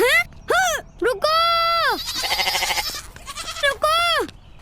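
Bleating from a goat in an Islamic 3D animated cartoon comes as several loud, wavering bleats, separated by brief gaps, with a stretch of buzzy vocal noise in the middle.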